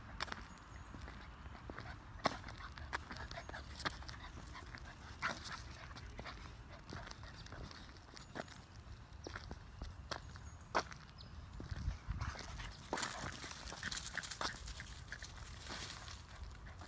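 Dogs, a big yellow one and a small yellow puppy among them, give faint scattered yips and whimpers over quiet footsteps and light movement through a long, low stretch.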